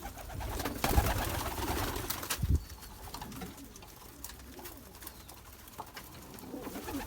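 Pigeons coo softly in a steady outdoor setting, with a couple of louder thumps or knocks early on and light background noise throughout.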